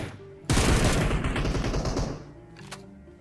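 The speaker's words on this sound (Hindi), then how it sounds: "और उस तरफ से भी फायरिंग आनी शुरू हो जाती है लेफ़्ट साइड से।" Gunfire in the PUBG video game rips out in a sudden long automatic burst, loud and rapid, then fades to quieter ambience with a single sharp shot near the end.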